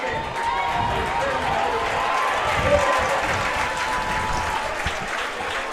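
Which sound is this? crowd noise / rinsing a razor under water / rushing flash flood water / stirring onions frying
crowd noise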